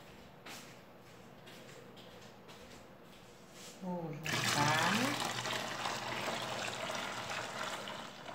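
Three litres of water poured into a container for homemade liquid laundry soap, quiet handling sounds at first, then a sudden loud steady gush of pouring water with a rising filling tone that continues to the end.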